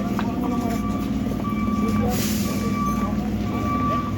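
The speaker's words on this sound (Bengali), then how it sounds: "আমাদের ট্রেনটা চলে যাবে" A train pulls away from a station platform with a steady, loud rumble and faint tonal whine, surrounded by background voices and platform bustle.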